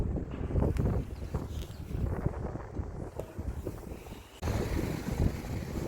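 Strong gusty wind during bad weather buffeting the microphone in heavy low rumbles, with a roaring, surf-like wash behind it and no voices.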